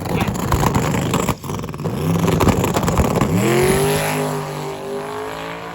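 A Honda S2000 drag race car roars close by at a drag racing event, then climbs sharply in pitch as it accelerates hard, a loud continuous rising whine fading slightly at the end.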